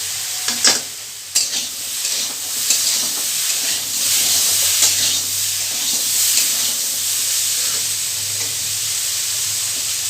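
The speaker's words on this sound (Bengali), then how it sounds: "সবজিগুলো কিন্তু ভাজা ভাজা হয়ে গেছে।" Vegetables for a raw seed banana curry sizzle and hiss steadily in a hot pan, with a couple of sharp scraping stirs near the start, loud and continuous throughout.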